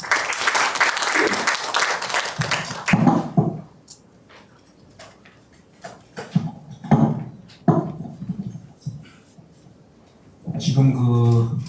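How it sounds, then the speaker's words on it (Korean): Audience applause at an academic symposium greets the next speaker, a district council chair, loud for the first three seconds, then fading into scattered claps and murmurs before a voice begins speaking. "박수로 맞이해 주십시오."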